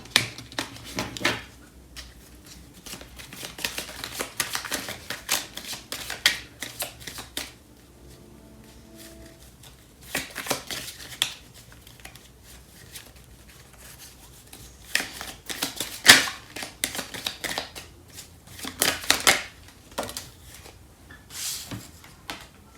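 A Starseed Oracle card deck is shuffled by hand in repeated bursts of riffling, fluttering card noise separated by short quiet pauses, close and fairly soft, with no talking.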